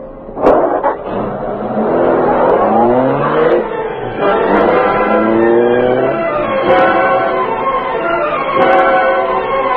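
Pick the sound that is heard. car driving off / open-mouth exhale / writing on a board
car driving off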